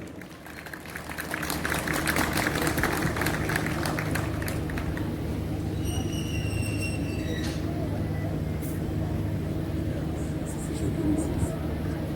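Scattered applause welcomes the MHP Muğla provincial chairman at a public event in Marmaris, steady clapping from a gathered crowd amid background murmur and ambient hum, with faint chatter around it.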